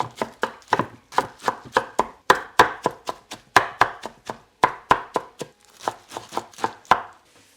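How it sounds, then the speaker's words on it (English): A knife roughly chopping washed spinach leaves on a cutting board, about thirty quick, even thuds in a steady rhythm, close and clear with no talking. "200 grams of washed up spinach leaves, which I do want to roughly chop"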